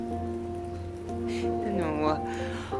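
Steady rain falls in the video game South of the Circle, a soft continuous patter under sustained tonal music, with a voice briefly speaking partway through.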